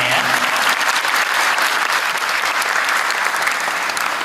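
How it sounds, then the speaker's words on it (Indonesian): Applause from a large audience at an Islamic gathering honoring great imams, a dense, steady patter of clapping that fills the room, loud and close, continuing without a break. "Masya Allah, tepuk semuanya ya"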